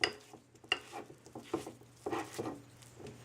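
A whisk beats allergy-free peppermint frosting in a bowl, giving irregular close scraping and tapping strokes in uneven bursts, with no voices.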